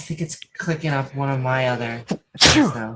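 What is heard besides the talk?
sneeze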